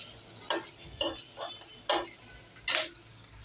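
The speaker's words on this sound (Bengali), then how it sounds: "পেঁয়াজটা আর অল্প বাকি আছে ভাজা হওয়ার।" A pan of frying onions is stirred, giving several separate soft scrapes and clinks spaced under a second apart over a faint sizzle, with no voices.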